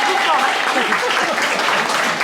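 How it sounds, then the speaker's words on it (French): An audience at a village evening concert applauds a band, with loud, dense clapping filling the short stretch and voices murmuring underneath. "On peut les applaudir bien fort"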